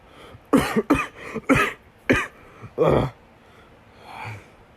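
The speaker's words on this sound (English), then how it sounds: "A cough soon came over your voice of when you were laughing" A burst of several harsh coughs in quick succession, close and loud, followed by a softer breathy exhale.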